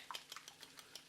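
A fork beats eggs for an omelette made from Christmas dinner leftovers: quick, quiet clicking taps against the bowl in an irregular rhythm, close by, over a short burst with no talking.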